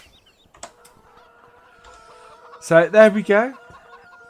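Chickens in the video game Farming Simulator 17 cluck faintly in the background, and someone briefly speaks over them near the end.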